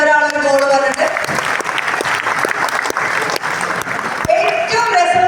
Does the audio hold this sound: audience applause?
yes